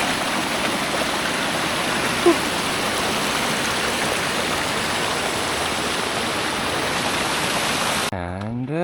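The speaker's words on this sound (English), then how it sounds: "River crossing." Water rushes steadily at a brook crossing on a hiking trail in the Sandwich Range Wilderness of the White Mountains National Forest, a close, even wash of flow that cuts off abruptly as a person begins speaking near the end.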